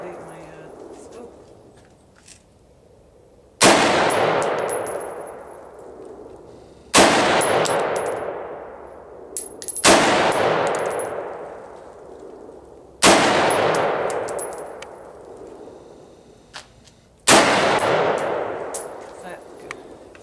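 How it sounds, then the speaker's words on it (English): An AR-15 rifle fires five loud single shots at spaced intervals, each a sharp crack with a long ringing decay outdoors, and voices talk quietly between shots. "You can see when she's shooting, there's very little recoil."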